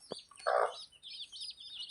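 A hen and her chicks sit in a winnowing basket in a Konkan village: one brief low cluck stands out amid a stream of high, thin chick peeps, close by and quiet.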